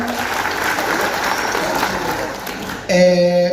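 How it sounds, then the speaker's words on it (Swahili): Sustained applause from a crowd at a political gathering in Kiharu, Kenya, steady clapping throughout, with a brief tonal sound cutting in near the end. "Asante sana, tumpige makofi tena"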